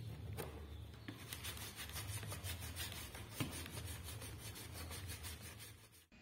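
Ironed-on paper being rubbed off a printed circuit board during toner-transfer etching prep: a close, steady run of rapid scrubbing strokes that keeps going without pause and with no talk.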